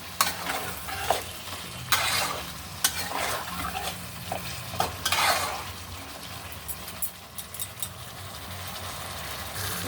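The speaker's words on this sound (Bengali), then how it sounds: "মাংসটা আমি ভালো করে একটু কষিয়ে নেব" Chicken for a Bengali potato-and-chicken curry is stirred and sautéed in a pan. A steady, quiet sizzle runs underneath as a utensil scrapes and clatters against the pan in irregular bursts, close and without speech.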